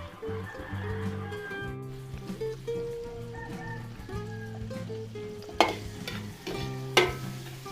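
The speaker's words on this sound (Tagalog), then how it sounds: "Gigisa muna tayo ng bawang at sibuyas. Unahin natin yung bawang." Garlic sautéing in margarine in a hot pan gives a steady close sizzle under background music, with two sharp utensil clanks near the end.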